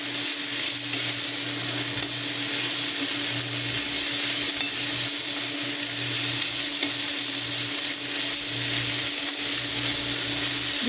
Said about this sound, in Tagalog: Ayan, ginisa.